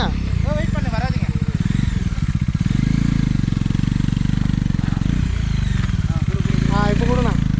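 A motorcycle engine revs and labours steadily through an off-road climb, loud and close throughout, with a person speaking over it.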